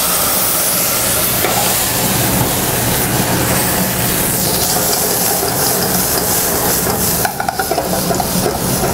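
White wine hits a hot pan for a fiery curry, releasing a loud, steady hiss of steam that holds unbroken throughout, close and alone, fading slightly near the end.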